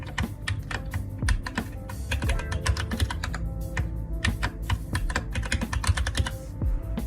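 A computer keyboard clacks with rapid, steady keystrokes as a password is typed, close up and continuous, with no talking.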